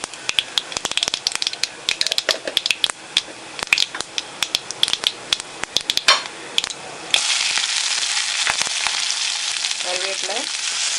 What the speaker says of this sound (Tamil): கடுகு பொரிஞ்ச உடனே நறுக்கி வச்சிருக்க பச்சை மிளகாய் போடணும்.